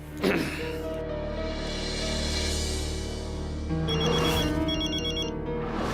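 A phone rings loudly nearby, a sustained electronic ringtone with a pause before it sounds again, no talking.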